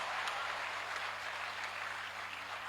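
Audience clapping rises as a broad, dense wash of applause at a poetry gathering, steady and fairly distant, with a faint low hum underneath.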